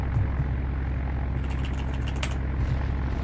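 Aircraft engine droning steadily in the Roblox naval combat game Naval Warfare, a continuous low propeller hum filling the scene at constant loudness with no talk over it.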